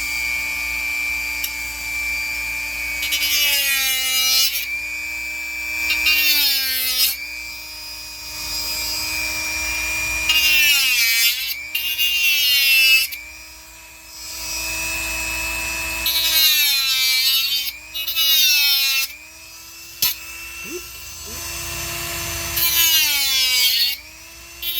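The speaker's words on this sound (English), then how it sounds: "I'm just going to fire up the Dremel, slice that right out of there." A Dremel rotary tool cuts out a piece of trim inside an '87 C4 Corvette during a Bluetooth radio and speaker upgrade, whining at high pitch in repeated bursts that rise and fall in speed with short pauses between them.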